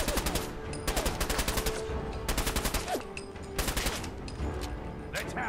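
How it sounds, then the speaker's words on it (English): Gunfire in Fallout 4, rapid bursts of automatic shots in several clustered volleys, loud and close, with brief pauses between them. "You just shoot the crap out of him."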